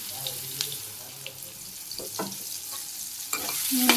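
Soybean chunks frying in oil in a home kitchen, a close steady sizzle with scraping stir strokes and small clinks of the spatula against the pan.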